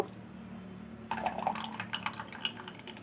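A paste of Gobindobhog rice and semolina is poured into a bowl, a faint wet trickle and splatter beginning after a moment of near silence in a quiet kitchen.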